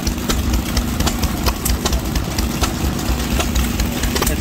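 Antique gas engine at a threshers show driving a Monitor pump jack, a loud, steady close-up chugging with a regular firing beat and mechanical clatter, running continuously without talk.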